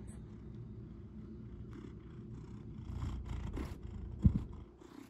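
A cat's steady low purring rumbles continuously at close range, with a brief louder thump near the end.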